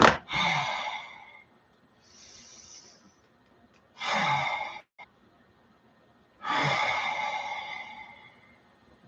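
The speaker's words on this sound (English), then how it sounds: "Okay, everyone, please breathe. Everyone, breathe. Everybody breathe." Slow, deep breaths during guided meditation, three long audible breaths spaced a couple of seconds apart, close to the microphone, with a faint breathy sound between them.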